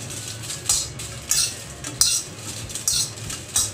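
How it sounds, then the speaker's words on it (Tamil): Dry red chilies roasting in an empty pan for a prawn varuval masala, stirred with a metal utensil that gives periodic scraping clinks about every second, with no oil sizzle beneath. "நம்ம மசாலாவுக்கு மிளகாவை 1 நிமிஷம் அப்படி நல்லா வறுக்கணுங்க"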